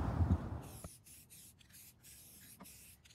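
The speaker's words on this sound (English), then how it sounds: "spraying it to seal it is far faster than any other method" A spray can hisses sealant onto furniture in short, quiet bursts, with brief pauses between the sprays and fairly close, soft rustling.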